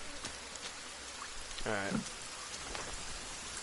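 Steady rain pours through a survival game forest in The Forest, a dense, even hiss filling the whole clip, with a brief spoken word near the middle.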